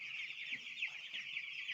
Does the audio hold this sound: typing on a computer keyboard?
no